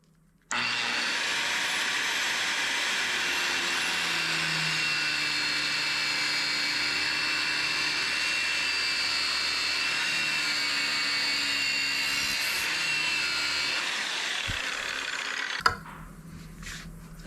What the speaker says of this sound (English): the only thing I have that's going to cut this, because it's going to have steel belting in it, I'm pretty sure, is going to be a grinder